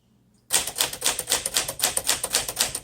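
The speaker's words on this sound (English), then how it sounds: "Sometimes it requires more pressure on a manual typewriter, but this one did not." Rapid typing on a Sterling manual typewriter, a close, loud stream of sharp key strikes in an even rhythm after a brief quiet start, with no speech.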